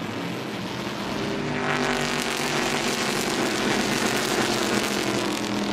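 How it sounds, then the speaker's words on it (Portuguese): A Stock Car Brasil Light race car, number 66, passes on the track at Autódromo Internacional de Goiânia with a loud, continuous engine roar that swells slightly as it goes by, with other track noise around it. "Você viu ali o carro número 66 passando."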